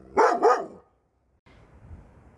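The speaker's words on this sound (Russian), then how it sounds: "это знакомая собачка Амига, которая всегда нас облаивает" A small dog barks twice in quick succession, close and loud, at passers-by on a street in the Abu Tor neighbourhood of Jerusalem, followed by a pause and then low street ambience.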